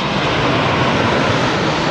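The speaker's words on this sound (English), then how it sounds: "A lovely airplane is just coming in front of me, and it's just going to be crossed over my head." Airliner on final approach to Heathrow Airport passing low overhead, a loud, steady, broadband engine roar filling the whole stretch with no voices.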